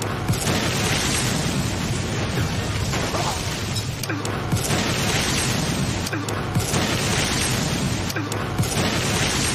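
Explosion in a monster movie: a loud, sustained roar of booming blasts and crashing debris that fills the whole stretch, with brief dips between bursts.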